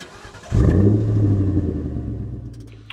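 A Hillman Avenger Tiger 2 car engine bursts into a loud, close rev after a brief quiet moment, then holds a deep, rumbling drone that slowly eases off.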